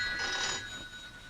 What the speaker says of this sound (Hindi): बाहर जाते वक्त टेलीफोन की घंटी बजना अच्छा शगुन होता है